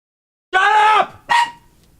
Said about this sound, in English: Mike, can you hear that dog?